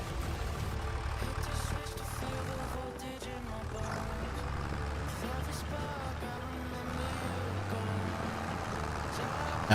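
A heavy truck engine in Farming Simulator 25 drones steadily with low rumbling and shifting mechanical tones, continuous and moderately loud throughout.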